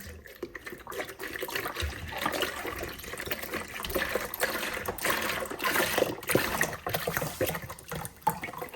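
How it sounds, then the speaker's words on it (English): Chicken broth from a full 32-ounce container pouring into a large bowl, a steady liquid trickle and splash running continuously at close range with no talk. "In a large bowl, I'm now gonna add in my chicken broth."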